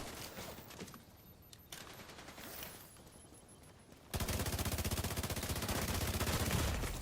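Pistol gunfire in a video game, scattered shots early giving way to a dense, loud rapid stream of firing that continues steadily to the end.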